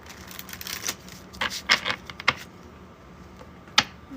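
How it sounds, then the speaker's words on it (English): A deck of tarot cards is shuffled by hand, giving irregular soft riffling and flicking bursts and a few sharp snaps, close to the microphone with no talk. "let me go ahead and shuffle this deck"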